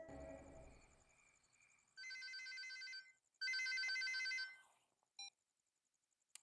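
Telephone ringing in a quiet office, a faint low rumble at first, then two long electronic trill bursts with a short pause between, followed by a brief clipped chirp.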